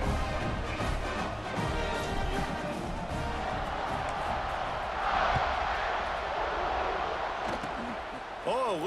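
Roaring stadium crowd noise from a College Football 26 video game, a broad steady wash of cheering that swells slightly midway, heard under continuous commentator talk throughout.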